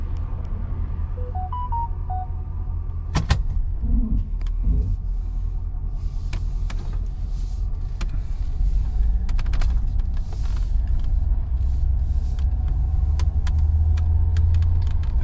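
A car drives past in front of a house in daylight, its engine rumble and tire noise swelling steadily and loudly over about fifteen seconds, with a few sharp knocks near the start and no talking.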